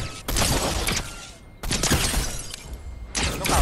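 Fortnite gunfire comes in three long, harsh bursts of rapid shots with short gaps between them, loud and close with nothing else beneath.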